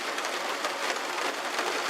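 Steady rain falls outdoors on a deck area, a dense, even hiss of drops on surfaces that holds constant throughout without pause.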